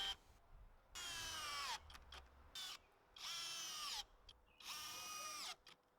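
A power drill drives screws into the wooden front of a simple outdoor step, in three sustained whirring bursts separated by short pauses, fairly close.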